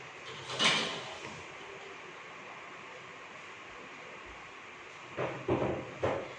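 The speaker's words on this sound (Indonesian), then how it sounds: "Menutup sampiran." A privacy screen curtain is pulled closed in a clinic room: a faint sliding swish near the start, then a few quick rattling slides close together near the end, over quiet room tone.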